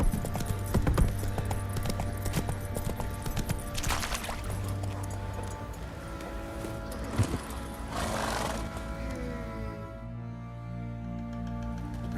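Rhythmic horse hoof clip-clops in the video game The Witcher 3: Wild Hunt continue at a steady walk, with a brief whinny partway through, then fade into quiet.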